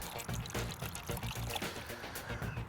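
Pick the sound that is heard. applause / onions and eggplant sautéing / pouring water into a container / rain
pouring water into a container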